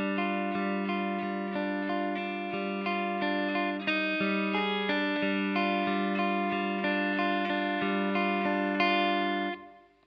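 Clean, steady guitar picking plays the short instrumental break from a song, with ringing, sustained notes over a repeating rhythmic pattern at a constant level. It cuts off near the end, and nobody speaks.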